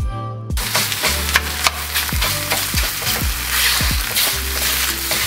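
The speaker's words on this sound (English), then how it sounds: "First, time to start browning the sausage." Sausage sizzles loudly in a hot pan with no oil, starting abruptly and crackling continuously, with repeated scraping knocks of stirring against the pan.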